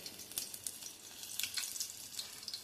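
Chicken pakodi fries in hot oil over a low flame, giving a soft, steady sizzle with light crackles and pops. The sound is faint and close.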